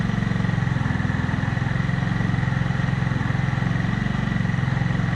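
A GY6 scooter engine idles with an oil cooler fitted and its exhaust wrapped, giving a loud, steady, fast putter that stays even and close throughout.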